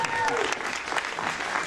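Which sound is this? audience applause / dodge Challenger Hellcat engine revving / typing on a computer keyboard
audience applause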